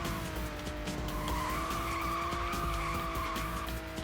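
Tires skidding and squealing as a car slides in the Hot Wheels World Race video game, a steady sustained screech over continuous engine roar lasting the whole stretch, loud and close with no talking.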